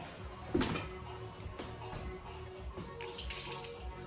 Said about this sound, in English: So now we're going to pour off the water.